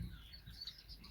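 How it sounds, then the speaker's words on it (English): Small finches, Moluccan mannikins, twitter and chirp inside an aviary. Brief high calls sound over a low rumble of handling noise close by. "Now I believe there's birds over there as well"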